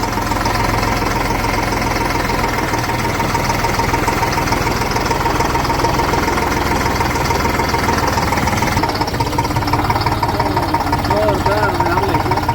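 A big tractor engine runs steadily and loud throughout, a dense continuous rumble with knocking, while a voice talks over it.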